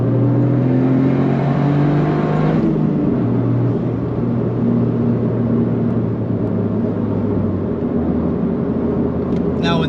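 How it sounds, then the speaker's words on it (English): Toyota GR Corolla fitted with an APEX'i N1 exhaust, its engine droning loud and close with a deep steady rumble, a rev change partway through before settling into a sustained engine note. "you can actually hear the rush of air exiting those pipes, and it sounds freaking awesome"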